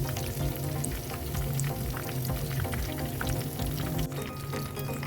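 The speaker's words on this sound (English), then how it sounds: "Listen to this sizzle." Coated prawns crackling and sizzling as they deep fry in hot oil, a dense steady frying hiss with small pops, close by and without talk.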